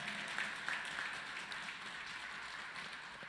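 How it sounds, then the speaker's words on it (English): An audience at a community event applauds, a brief, even wash of clapping that runs through the whole short stretch at moderate loudness. "Give everybody a round of applause."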